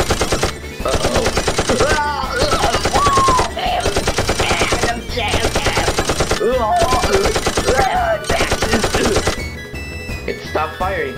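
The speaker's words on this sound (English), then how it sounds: "Why do I hear a machine gun?" Sustained machine-gun fire in long, rapid bursts, with several short pauses between them, loud and close, mixed with dramatic music and some voice-like sounds, part of a Halloween special.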